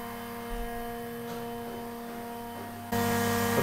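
Vacuum pump running steadily for bending a curved frame over a former, a close, even motor hum with a sharper, louder tone cutting in near the end.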